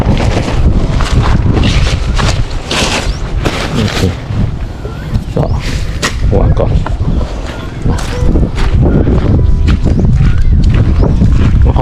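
Strong wind outdoors at a camping spot after a night of rain, roaring and buffeting the microphone in loud, continuous gusts, with a voice faintly mixed into the noise.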